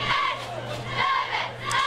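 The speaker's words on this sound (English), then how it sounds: "I like the broadcast with the crowd noise tonight" Crowd noise from the stands at a high school football game between Argyle and Pleasant Grove, a steady roar swelling in repeated waves of shouting voices over a constant low hum.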